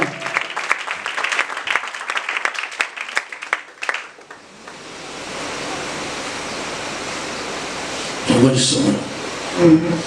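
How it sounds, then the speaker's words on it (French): A church congregation breaks into loud applause and cheering during a worship service, a dense clapping roar that swells, fades into steady crowd noise, then surges again near the end. "Acclamons très fort"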